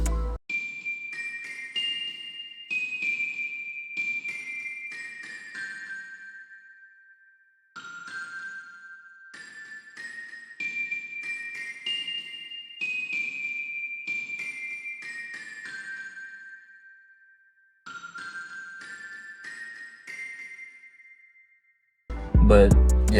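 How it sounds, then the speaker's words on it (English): A BBC Orchestra celeste preset plays small tinkling notes in short bright phrases that rise and fall, separated by brief pauses, clear and alone until a thump at the very end. "So then next, I went to BBC Orchestra and I added a glockenspiel, or my bad, I added a Celeste preset."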